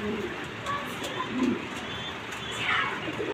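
A pair of doves kept with their chicks coos softly in a couple of low, rounded calls, faint and near against a quiet background.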